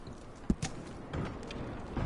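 Horse hooves clip-clopping in a video game, a few quiet, uneven hoof knocks scattered over a low background.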